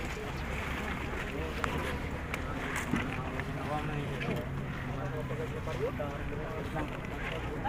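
A boat engine drones steadily with wind buffeting the microphone and water nearby, while people talk over it.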